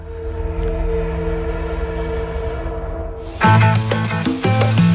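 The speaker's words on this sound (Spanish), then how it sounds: "Trenes del sur, pequeños entre los volcanes, deslizando vagones sobre rieles mojados por la lluvia vitalicia." Small southern trains running among volcanoes on rain-wet rails: a steady rolling rumble of wagons, then a loud, sustained, wavering horn blast breaks in close by and continues to the end.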